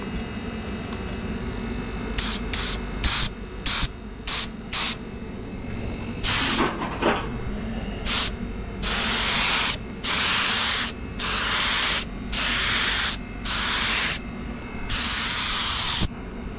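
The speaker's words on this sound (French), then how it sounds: "c'est la première fois que je peins au pistolet" A paint spray gun, used for a first complete paint job in winter cold, firing bursts of loud airy hiss, short rapid pulses at first, then longer sustained sprays of a second or so, over background hum.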